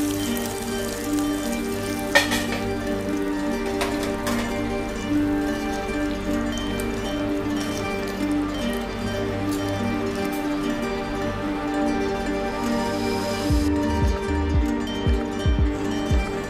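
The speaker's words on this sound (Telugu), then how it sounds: "మీడియం ఫ్లేమ్ లోనే మనము తాలింపు పెట్టుకుందామండి" Oil tempering for mango pappu sizzles steadily over a medium flame, a continuous close frying hiss with a few faint stirring clinks and no voices.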